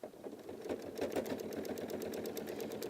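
A sewing machine stitching in the ditch while machine-quilting a single bed quilt, a steady fast mechanical whir with regular needle ticks, close and moderately quiet, with no talk.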